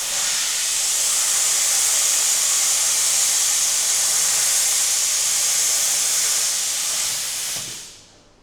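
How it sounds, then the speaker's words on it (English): A welding robot test-gouging a welded part with plasma gives a loud, steady, close hiss that holds evenly for several seconds before tapering off. "We were performing some test gouging to dial in the settings on the robot"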